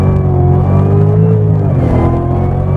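A 2019 Cadillac CTS-V pulls hard in second gear after a quick run of downshifts, its engine a loud, steady, rising roar with harmonic drone filling the cabin and no talk over it.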